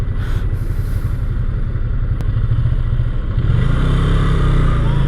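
Ducati motorcycle in sports mode on a ride, its engine a loud, continuous low drone that swells toward the end, with wind rush and no talk.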